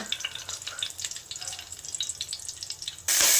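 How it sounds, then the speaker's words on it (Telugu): Whole biryani spices and bay leaves frying in hot oil, a steady close crackling sizzle with small pops throughout, ending in a sudden louder surge of hiss. "ఇవన్నీ కూడా మంచిగా ఫ్రై చేసుకున్నామండి."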